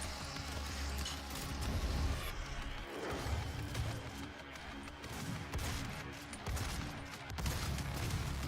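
Pistol shots in the video game Rage Room, a string of loud, sharp bursts over a dense, crashing background with smashing impacts.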